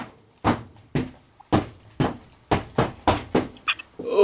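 A drawer or cupboard being handled up close, giving about nine sharp wooden thunks and knocks in an uneven rhythm over a few seconds, with no talking.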